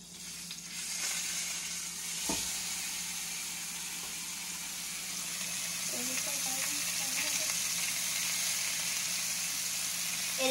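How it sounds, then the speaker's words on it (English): Beaver meat searing in a pan gives a steady broadband sizzle and fry throughout, with a brief clatter near the start and faint voices in the background. "It is sizzling."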